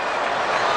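A baseball crowd at a Padres vs Dodgers game in Los Angeles, up on their feet applauding and cheering, a dense, steady roar of clapping and voices filling the stadium.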